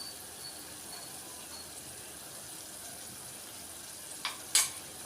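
Onions frying in a pan with salt for an Andhra-style tomato egg curry, a soft steady sizzle, quiet and close, with a couple of brief louder clinks or stirs near the end.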